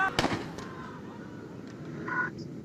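Police fire shots at protesting students on the Dhaka University campus at night. A couple of sharp, distant cracks come at the start, then faint background noise with murmuring voices follows.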